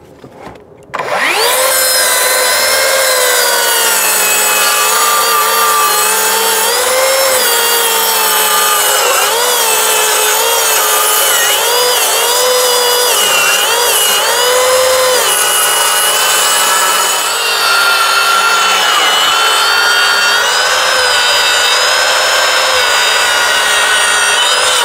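A saw cuts wood for a garden room window opening with a loud, sustained whining buzz whose pitch wavers as it bites. It runs unbroken for over twenty seconds after a brief start.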